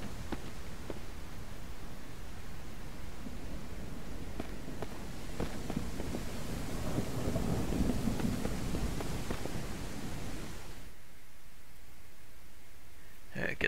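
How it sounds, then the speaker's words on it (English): Steady rain in the video game Mist Survival hisses continuously, with scattered soft taps and thumps, before the sound drops away near the end. "Then it starts raining, then it's okay."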